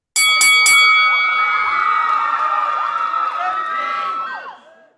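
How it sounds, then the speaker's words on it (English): A bell rings to open a wrestling report segment: a few quick bright strikes, then a long ringing tone with cheering and crowd noise under it that fades out. "So now let's ring the bell."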